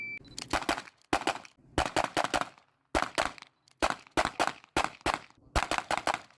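Rapid strings of gunshots crack out in a competitive shooting stage run, several bursts of quick shots separated by short pauses, loud and close throughout.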